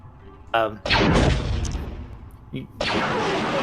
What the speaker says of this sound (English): shortly after, the ion cannon starts firing again